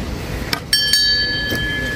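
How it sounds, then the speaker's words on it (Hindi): A metal bell at the end of the Kareri Lake trek is struck a few times, giving short bright rings with a lingering tone, over outdoor background noise. "ये डंडे यहाँ पे आके वापस करने हैं और ये घंटी बजानी है"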